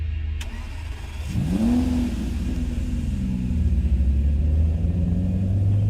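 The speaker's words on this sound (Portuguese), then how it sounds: "o carro na minha frente ligou e começou a acelerar através da estrada." A car engine starts and revs up, its rising whine building into a loud, steady acceleration rumble as it pulls away down a dark road.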